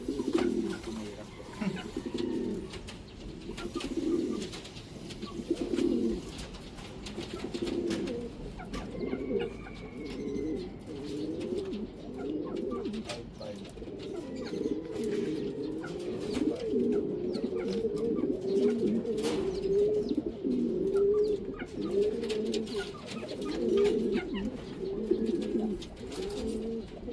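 Racing pigeons cooing in a loft during a race arrival, soft repeated throaty coos overlapping continuously at close range over faint background noise.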